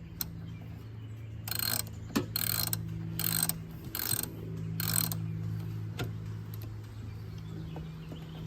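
A ratchet with a 13 mm socket loosening aftermarket car battery terminals, five bursts of rapid clicking close up over a steady low hum, followed by a couple of faint taps.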